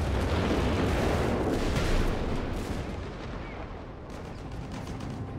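Heavy German 210/22 howitzer artillery fire in Company of Heroes 3 booms loudly in a dense, rumbling barrage with overlapping blasts that thins toward the end. No one speaks.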